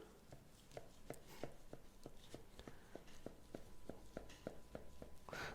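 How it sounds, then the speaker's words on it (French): A knife cuts a sheet of pastry dough lengthwise in two with a quiet, regular series of taps and presses on the board, close by and with no talk. "On va couper en deux."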